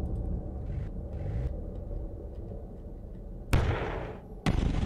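Cannon fire in the video game Underland: a steady low rumble, then two sudden sharp booming blasts near the end, the second cutting in loudly and lingering.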